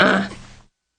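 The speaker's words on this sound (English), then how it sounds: "this is the coughing, grunting kid" A short throaty grunt from a baby with a rough cough-like burst, close and fairly loud, fading out after under a second, followed by silence.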